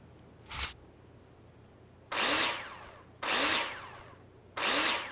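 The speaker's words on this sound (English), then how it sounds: "Take your drill out and screw them in." Three loud bursts of a power drill driving screws into plasterboard in a builder simulator game, each lasting about a second, after a short earlier whir, with no talk.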